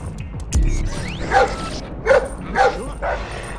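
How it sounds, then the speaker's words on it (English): A dog barks in the stealth video game Splinter Cell Blacklist, three or four clear, mid-distance barks spaced about half a second apart over quiet background ambience, following a brief sharp clank. "Oh, I can hear doggy."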